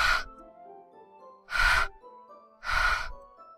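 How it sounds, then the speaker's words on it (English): Sharp breathy inhales in the horror visual novel Doki Doki Literature Club, three distinct hissing gasps spaced about a second apart over quiet, low game music. "It sounds like breathing. A sharp inhale, like someone sucking air through their teeth."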